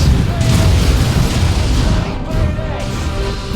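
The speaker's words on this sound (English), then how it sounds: "Launch barrage! Quickly, brothers." In Dawn of War II, an artillery barrage makes loud, deep booming explosions that rumble continuously, with game voices partly mixed in.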